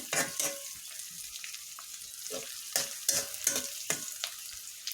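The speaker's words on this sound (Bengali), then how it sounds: "দিয়ে ভালোভাবে আমি নাড়াচাড়া করে নিতেছি দেখতে থাকুন কিভাবে আমি কুমুরটা রান্না করি পেঁয়াজটা আমার ভালোভাবে ভেজে নিতে হবে" Onions frying in a pan while being stirred and turned, a soft sizzle broken by repeated sharp scraping strokes of the spatula against the pan.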